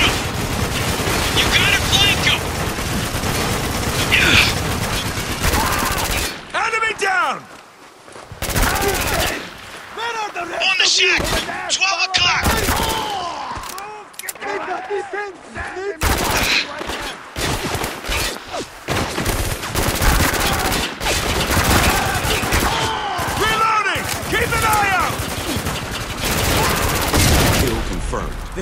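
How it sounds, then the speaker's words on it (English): Heavy .50 cal machine gun turret fire in Spec Ops: The Line, loud sustained bursts with dense overlapping gunshots and explosions, broken by brief pauses and mixed with shouted voices. "Walker, we need to take out that 50 cal!"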